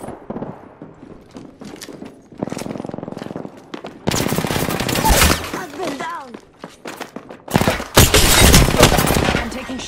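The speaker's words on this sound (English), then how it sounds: "Getting shot at." Bursts of automatic gunfire crackle loud and close in an Apex Legends battle, coming in rapid volleys that grow denser and heavier, with players talking over the shooting.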